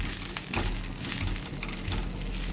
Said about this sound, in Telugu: దీన్ని మనం సిమ్లో పెట్టుకొని వేయించుకుందాం